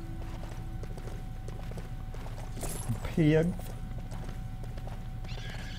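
Horse in the Lego Worlds video game, with soft clip-clopping hooves under a steady musical hum and a short loud whinny partway through; a voice speaks briefly.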